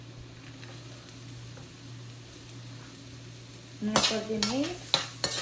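After a quiet stretch with a few spoken words, chopped carrots are tipped into a hot pan for Jain vegetable noodles, setting off a sudden sizzle with clattering spatula stirs and scrapes near the end.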